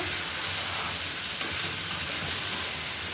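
Eggplant with dried fish sizzles loudly and steadily in a hot pan as it is stirred, with one sharp utensil clack partway through and no talking.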